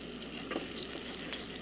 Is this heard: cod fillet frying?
yes